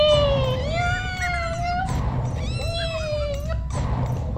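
Cat meowing in the PS1 video game Harry Potter and the Chamber of Secrets, two long drawn-out wailing meows, loud and close over a steady game background hum.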